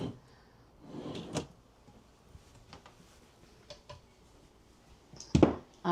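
Pull-out drawers in a Brinkley G3250 RV are opened and closed, giving a few soft slides and sharper clunks and clicks spread through an otherwise quiet interior.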